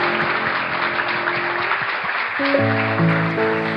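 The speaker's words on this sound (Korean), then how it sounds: "우리 하나님께 영광의 박수를 돌리죠" A congregation at a Korean church's Wednesday service applauds, a steady rush of clapping hands over sustained keyboard tones, with worship music swelling under the clapping in the final seconds.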